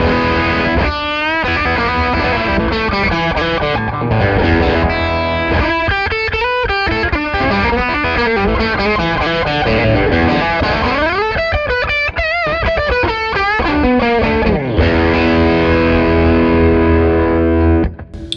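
Distorted electric guitar played on the bridge pickup in humbucker mode through delay and drive pedals plays a continuous melodic line with bends and sustained notes, thick with echoing repeats, loud and unbroken throughout.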